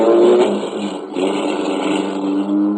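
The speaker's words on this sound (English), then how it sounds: "The car shot out of a side street only moments after I heard it start." A car engine starts and speeds past on a cold, snowy winter evening street in an old-time radio detective drama, a steady motor roar with a brief surge midway, close and alone with no talk.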